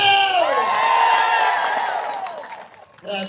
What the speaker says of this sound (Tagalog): Kung totoo, pumalakpak lang may sigaw!